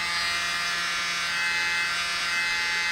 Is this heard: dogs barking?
no